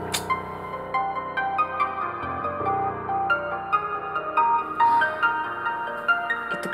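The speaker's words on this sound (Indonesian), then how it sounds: "Itu pasti Mama yang telepon." A melodic phone ringtone plays steadily on its own, a bright repeating tune with no voices over it.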